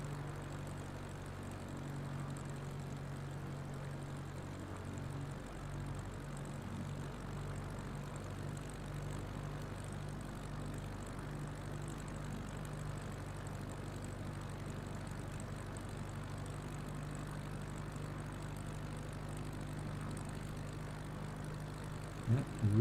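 Propeller airplane droning steadily in flight on a bush trip over alpine terrain, a constant low hum at moderate level with no break and no voices.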